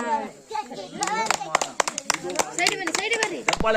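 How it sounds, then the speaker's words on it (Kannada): Clapping from a crowd at a village New Year games prize event, quick scattered hand claps mixed with children's and adults' voices talking and calling out nearby. "ಚಪ್ಪಾಳೆ"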